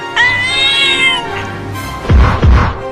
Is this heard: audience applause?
no